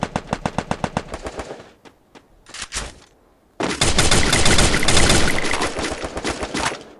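Gunfire in the Free Fire battle-royale game: a rapid burst of automatic shots, then a couple of isolated reports, followed by a long, loud sustained stretch of heavy overlapping fire, close and dominant with no talk.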